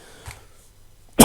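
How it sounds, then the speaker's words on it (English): A single sharp cough close by, preceded by a faint softer sound in an otherwise quiet room. "had a cough then"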